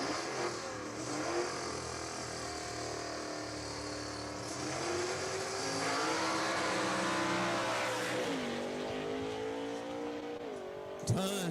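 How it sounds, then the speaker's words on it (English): Allan Platt's Georgia Shaker 3 gasser drag car with a 427 cubic-inch Ford FE V8 launching at Jackson Dragway, a loud sustained roar with tire spin, pitch climbing and wavering as it pulls away, crowd noise beneath. "Tons of tire spin right there for Allan Platt as he just powered the racetrack, really overpowered it."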